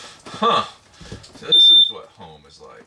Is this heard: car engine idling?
no